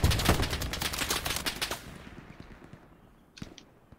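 Rapid gunfire rattles in Hell Let Loose, a World War II shooter game: dense bursts of shots through the first two seconds, then fading to quiet with a couple of faint distant shots near the end.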